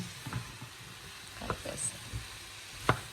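Cauliflower is tossed with salt, chili powder and spices in a frying pan over low sizzling, with a few soft scrapes and stirring knocks, one sharper clack near the end, and a voice speaking briefly.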